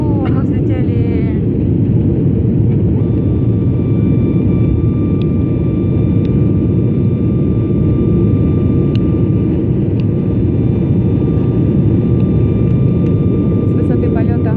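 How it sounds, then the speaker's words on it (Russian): A passenger airplane climbs after takeoff from Yakutsk, heard from inside the cabin as a loud, steady low engine roar with a faint high whine, lasting throughout. "Уху, мы взлетели."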